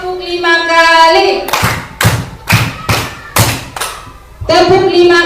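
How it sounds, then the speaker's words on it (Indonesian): Seated group at a school gathering claps five times in unison, crisp loud collective claps in an even rhythm, framed by a leader's voice before and after. "tepuk 5 kali,"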